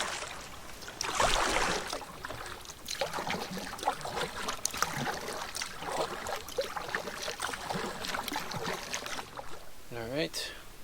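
Solo canoe paddling on a lake, with soft rhythmic paddle strokes and gentle water trickling close by, steady throughout with a brief higher whistling or chirping sound near the end.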